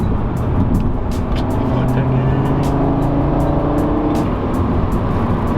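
Engine of a 2018 Audi RS3 with a DSG gearbox pulls hard under acceleration, a loud, steady drone with rising tones and a shift partway through, heard from inside the car.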